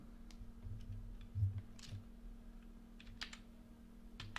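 Soft, rapid typing on a computer keyboard, with irregular clusters of light key clicks and a few slightly heavier taps, recorded close and fairly quiet with no talking.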